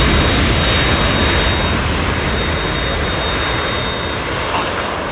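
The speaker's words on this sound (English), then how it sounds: "We're in trouble. It's the Harrier." A Harrier jet in the video game Metal Gear Solid 2 gives a loud, continuous roaring engine wash that holds steady and eases off only slightly toward the end.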